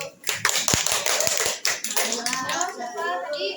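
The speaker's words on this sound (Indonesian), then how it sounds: "Tepuk tangan dulu." Scattered clapping from a small class audience after a group presentation on employee leave, irregular taps and hand claps mixed with overlapping children's voices, fairly close and moderately loud for a few seconds.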